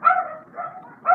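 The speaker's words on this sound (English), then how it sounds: "My dog is starting to bark" A dog gives a few close, short barks and yips, with brief pauses between them, with no voice heard over it.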